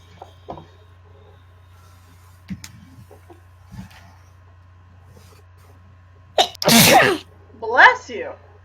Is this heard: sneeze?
yes